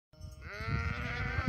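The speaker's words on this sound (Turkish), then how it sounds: "Arkadaşlar bunlar keçilerimiz." Sheep and goats on a highland pasture give a single faint, drawn-out bleat that starts abruptly and holds steady for about a second.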